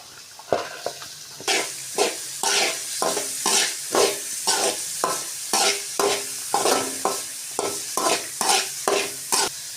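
Onions, carrot and vegetables sizzle steadily in a hot pan while a utensil scrapes and stirs in quick, repeated strokes, loud and close, with no voices.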